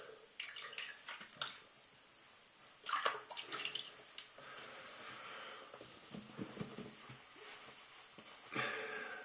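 Water runs and splashes at a sink while someone rinses off after a wet shave, heard as close intermittent splashing and trickling with short louder gushes, no talk.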